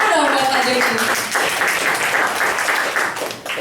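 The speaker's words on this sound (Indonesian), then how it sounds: "tepuk tangan dong buat Pak Joni." Audience applause for a guest honoured at a live event, broad steady clapping that fills the whole stretch at fairly close range, with some voices underneath and a slight fade at the end.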